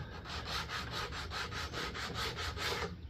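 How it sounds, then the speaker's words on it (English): Wood grooves on a mid-century modern buffet sanded by hand with a rolled-up sanding disc, a steady back-and-forth rasping of about a dozen even strokes, close and alone. "So I just rolled up a sanding disc,"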